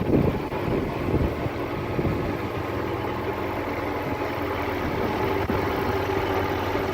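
A Jeep engine idles steadily with a low, even rumble, mixed with some wind noise on the microphone and no voices.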